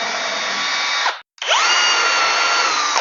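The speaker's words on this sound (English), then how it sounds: "you can just find the center and pre-drill" A power drill pre-drills holes for cabinet hinge fixings, whining loudly and steadily at close range, stopping briefly and then spinning up again.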